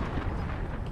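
A missile strike explosion in Modern Warfare on the Crash map, heard as a brief, loud, rumbling blast filling the whole second without any break.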